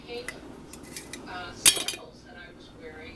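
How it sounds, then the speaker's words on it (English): Metal screw rings are twisted off sealed glass canning jars of Dutch apple pie jam, producing a few light metallic clinks and scrapes with one sharper clank near the middle, close by and fairly quiet. "Now we remove the lids, the rings I mean,"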